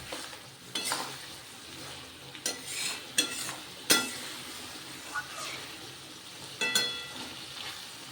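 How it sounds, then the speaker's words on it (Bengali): Spices fry in oil for a vegetarian pointed gourd and chana dal curry, a soft sizzle broken by several sharp scrapes and clinks of a spoon stirring against the pan, close and uneven. "কষানো প্রায় হয়ে গেছে, দেখুন মশলা থেকে কিন্তু তেল বেরিয়ে এসেছে।"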